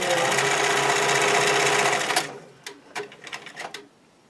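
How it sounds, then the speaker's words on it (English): A sewing machine stitches elastic onto stretchy swimwear fabric in a loud, rapid continuous run for about two seconds, then stops and gives several short, quieter bursts of stitching. "And stretch your elastic and sew."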